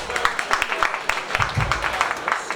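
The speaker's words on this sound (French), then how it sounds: "Je vous demande d'applaudir M." An audience applauds for M. Victor at an event, with a dense patter of clapping mixed with crowd noise and talk throughout.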